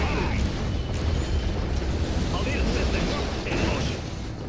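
Cannon fire and explosions in Red Alert 3 Uprising, a dense, continuous rumble of booms and mechanical clatter with a few sharper bursts, playing beneath a talking voice.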